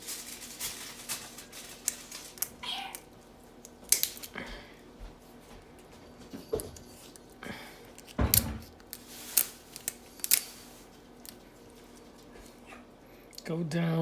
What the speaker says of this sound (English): and just start snipping away.